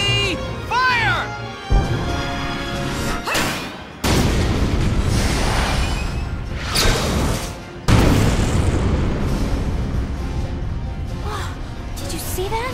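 A tank shell fired in the game Valkyria Chronicles, heavy booming blasts recurring across the scene, with loud broadband impacts at about four and eight seconds over a dense wartime soundtrack.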